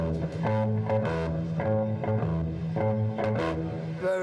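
A bass guitar played in a conventional style, with a steady line of repeated low, sustained notes and a slightly driven, effected tone, heard alone throughout.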